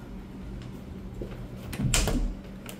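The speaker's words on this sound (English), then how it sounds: "The soft close drawers in here too." A soft-close drawer in a house in Celebration, Florida slides shut, a brief muffled thud near the middle followed by a quiet settling, alone in a room with light background hum.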